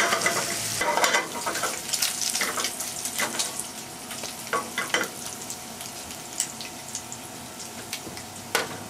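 Bacon frying on low heat in a pan for carbonara, a continuous sizzle with scattered spatters and scraping stir noises, no voices.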